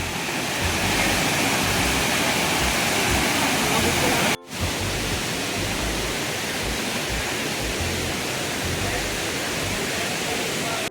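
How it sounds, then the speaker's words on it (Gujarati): A powerful waterfall in Gujarat roars as a dense, steady rush of falling water, loud and close, continuing without a break apart from a brief cut partway through. "તમે જોઈ શકો છો બહુ જબરદસ્ત ધોધ પડે છે અહીંયા આગળ."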